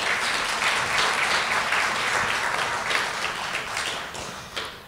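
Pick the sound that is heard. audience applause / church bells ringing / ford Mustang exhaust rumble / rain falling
audience applause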